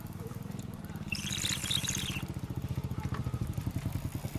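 A motorbike engine chugs steadily nearby on an outdoor fishing outing, its rapid, regular pulses holding at an even volume, with a brief hiss of higher noise partway through.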